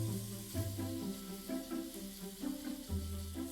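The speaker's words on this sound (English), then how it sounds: "Heat 2 tablespoons of oil and start browning the meat." Meat spiced with ground coriander and cumin browning in about two tablespoons of hot oil, a steady broadband sizzle with soft crackles, under a low, intermittent harmonic hum and occasional handling sounds.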